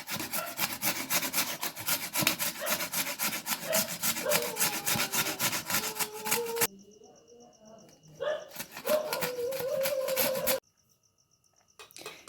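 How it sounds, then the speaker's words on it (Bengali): Peeled beetroot grated finely on a hand grater, loud rapid rasping strokes in a steady back-and-forth rhythm, close by, stopping briefly and then resuming before a quieter end. "বিটটাকে একদম এই ঘষুনি দিয়ে মিহি করে ঘষে"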